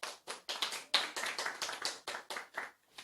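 A church congregation claps in thanks to God, a steady burst of many hands applauding together for about three seconds, close and moderately loud with no talking.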